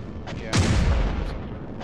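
Enemy ships open fire in the space combat game Nebulous Fleet Command, one heavy booming shot landing with a deep rumble that decays over about a second, preceded by faint softer reports.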